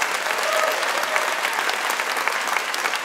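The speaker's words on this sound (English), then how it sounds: "So let's give him that applause now." A crowd claps steadily and enthusiastically, a dense, even wash of applause with no talking.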